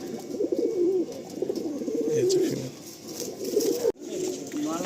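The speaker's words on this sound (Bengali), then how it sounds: "দেখুন এই একটা সেট দেখুন পায়রা" Pigeons in a loft coo in repeated low, rolling calls, close and fairly loud, overlapping one another. A brief drop to near silence breaks the run before the cooing resumes.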